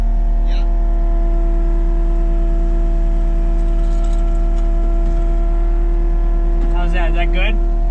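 A salt spreader's spinner motor runs with a steady, droning mechanical hum that holds evenly throughout, with brief faint voices or breaths near the start and end.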